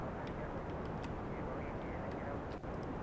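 A steady, broadband engine-and-wind drone from a canard-equipped airplane flying in Kerbal Space Program, constant and loud throughout with only a brief dip near the end.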